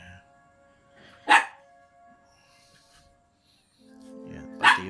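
A dog gives two sharp, close barks spaced a few seconds apart, with a quiet hum and faint background sounds between them.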